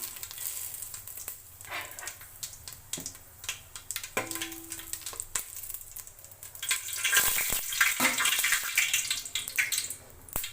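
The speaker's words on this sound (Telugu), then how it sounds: "ఆయిల్ హీట్ అయినాక కొంచెం జీలకర్ర వేయాలి అలాగే బిర్యానీ ఆకులు వేసుకున్నా" Cumin seeds and biryani leaves sizzle and crackle in hot oil in a home kitchen, a steady frying hiss that swells louder in the second half with scattered pops and faint utensil clatter.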